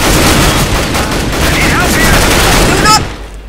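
Dense rapid gunfire from the video game CS:GO, a continuous loud fusillade of shots that runs nearly three seconds before cutting off abruptly, with a couple of brief tonal blips near the end.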